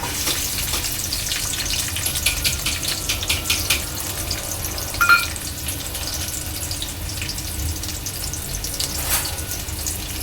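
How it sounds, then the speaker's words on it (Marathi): Long sliced onion and green chili frying in hot oil for a Koli-style prawn curry, a steady broadband sizzle with a faint watery hiss running throughout, close and continuous, with one brief louder crackle midway. "तेल चांगलं गरम झालेलं आहे। तर यामध्ये उभा लांब लांब चिरलेला कांदा आणि मिरची टाकायची आहे।"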